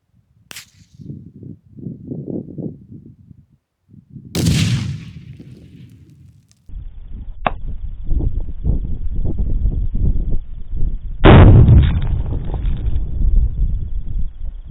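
GHO 1 hand grenade going off outdoors, a single sharp blast followed by a rumbling tail and wind buffeting the microphone, with further outdoor noise and rustling around it.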